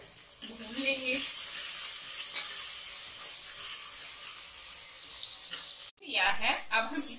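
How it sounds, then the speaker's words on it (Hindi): Finely chopped onions sizzle steadily in a hot pan for moong dal tadka, a close, continuous frying hiss with brief voices at the start and end. "ये दो ओनियन को हमने बारीक काट लिया है और इसे हम 3 से 4 मिनट तक भून लेंगे।"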